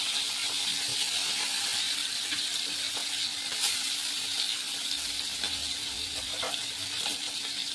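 Fish sizzling steadily in hot oil in a pan, a continuous crackling hiss with scattered small pops and a few clinks, with no talking.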